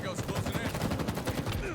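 Rapid gunfire in a ranked online shooter match, a dense stream of loud, close shots in quick succession.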